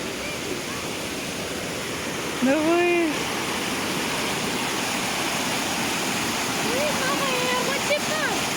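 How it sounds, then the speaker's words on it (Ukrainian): Steady rushing roar of several waterfalls surrounding a walkway at Monasterio de Piedra park in Spain, a constant broadband wash with brief voices exclaiming over it. "З усіх сторін водоспади."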